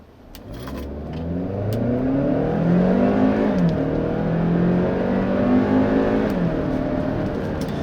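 A 2017 Hyundai Santa Fe Sport 2.0T engine revs up hard and accelerates, its pitch climbing through gears in a loud, steady roar with no talking.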